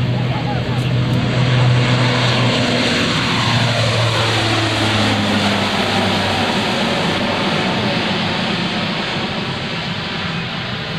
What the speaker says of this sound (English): C-130J is actually departing the area at this time